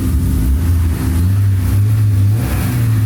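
A 1999–2005 NB Mazda Miata engine is revved a few times up close during radiator replacement work, a loud throaty mid-pitched drone that climbs and settles in short surges.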